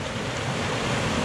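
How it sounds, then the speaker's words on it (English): River water at the Strid, a narrow and dangerous stretch of river, surging and bubbling up in a loud, continuous rushing wash with steady wind noise on the microphone. "The water is bubbling up"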